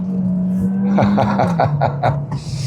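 Kia Sportage Hybrid 2025 driving along, a steady low engine and road drone running throughout, with brief clicky interior knocks, no talking.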